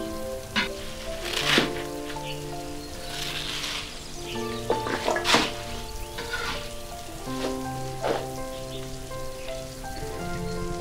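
Choy sum stir-fries in a wok over a high flame, with a continuous crackling sizzle broken by sharper bursts as the greens are tossed. Background music plays faintly underneath.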